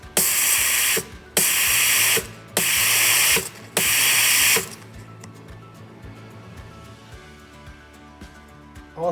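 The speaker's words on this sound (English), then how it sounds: "put it back down and it will auto clean itself" A Breville Oracle Touch espresso machine's steam wand purges itself in four loud, hissing bursts of steam about a second apiece, separated by short gaps, followed by quieter ticking and clicking from the machine.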